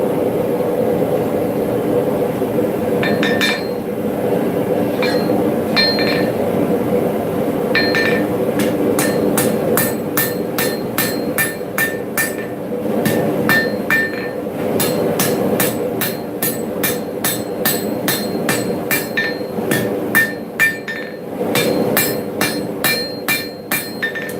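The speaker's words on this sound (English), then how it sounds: "let's start forging this fire steel." Hammer forging a fire steel at a smithing session, with repeated sharp metallic ringing strikes, sparse at first and then in quick steady bursts, over a constant roar of the forge.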